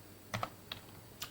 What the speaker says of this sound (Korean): true라고 입력해 보세요